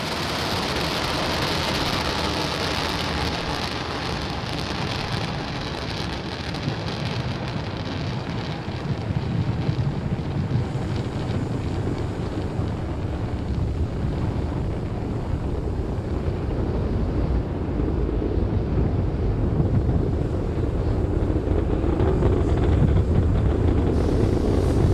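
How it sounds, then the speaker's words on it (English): SpaceX Falcon 9 rocket lifting off from launch pad 39A at Kennedy Space Center, a heavy, continuous broadband roar that rumbles and builds slightly over time, loud and without voices. "Ignition. And liftoff. Falcon 9 is pitching downrange."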